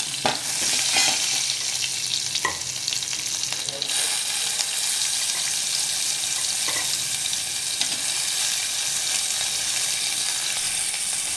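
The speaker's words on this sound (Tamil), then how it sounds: "கருவேப்பிலை நல்லா பொரிஞ்ச பிறகு வெங்காயத்தை போடணும்." Onions frying in hot oil with curry leaves, a loud steady sizzle with stirring scrapes and clinks throughout, and a voice briefly talking over it.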